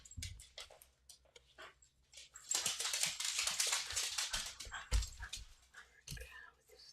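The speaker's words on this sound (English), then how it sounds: "Oh, my dogs are like playing." Dogs playing indoors, heard as scuffling, soft whines and whimpers in a busy middle stretch, with quieter patches of rustling before and after.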